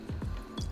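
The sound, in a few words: water being poured for sourdough leaven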